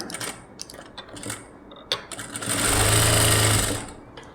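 A sewing machine stitches the cup shape of a blouse: short taps and stops at first, then a loud, steady mechanical run of about a second and a half close by.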